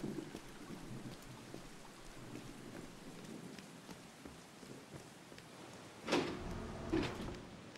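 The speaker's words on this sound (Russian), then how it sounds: "Ты не видишь, что дождик идёт?" Rain falls steadily in the video game Beyond: Two Souls, a continuous wet hiss with a couple of louder rumbling swells near the end, no talking.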